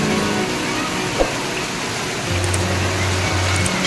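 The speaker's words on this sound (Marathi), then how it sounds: "पाऊस कसा आलेला आहे" Rain falling outdoors as a steady, fairly loud wash of noise, with a single brief knock and a low engine-like hum entering near the end.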